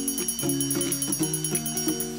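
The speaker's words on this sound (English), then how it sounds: "Mom said to come home when the alarm goes off." A tinny electronic alarm clock plays a looping chime melody in a quick, steady rhythm, repeating without pause throughout.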